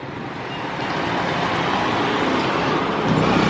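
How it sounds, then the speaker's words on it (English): Dense street traffic of tricycles and motorcycles at a public market in Iloilo Province, Philippines, a continuous loud rumble of engines with passing vehicles, no talk. "All these tricycles and motorcycles."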